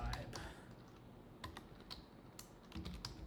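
Computer keyboard keys clatter in quick, irregular bursts of sharp clicks at close range, with a steady low hum underneath and no voices.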